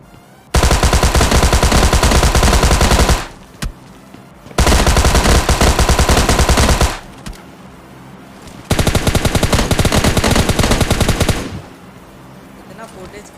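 M4 rifle fire in a PUBG Lite fight comes in three long, loud automatic bursts of rapid shots, each lasting a few seconds, separated by brief quiet gaps.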